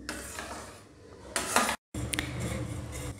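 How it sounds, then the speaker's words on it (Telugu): A spoon scrapes and clinks against a metal pot while a milk mixture for gulab jamun is stirred, with soft irregular knocks, a louder clatter midway, a brief silent break, then continued stirring close by. "ఉండలు లేకుండా కలుపుకుంటూ ఉండాలండి, 1/2 గంటకుండా అలా కలుపుకుంటూనే ఉండాలి"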